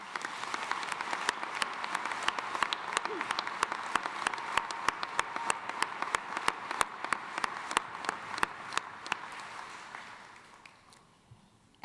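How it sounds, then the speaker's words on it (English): Commencement crowd in a university arena applauds, a sustained, fairly distant wash of many hands clapping that gradually fades out near the end. "Let's have a round of applause and appreciation for each other"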